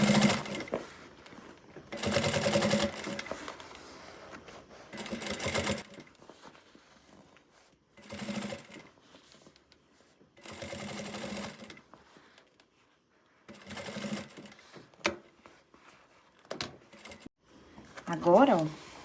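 A sewing machine stitches bias tape down along an existing seam on a zippered fabric pouch, running in several separate bursts of steady rapid whirring with quiet pauses between, a voice talking in the gaps.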